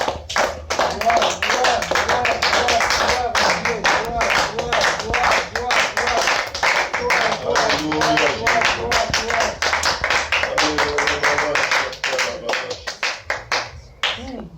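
A church congregation applauds with a dense, lively burst of clapping that runs for several seconds and fades out near the end, with voices mixed into it.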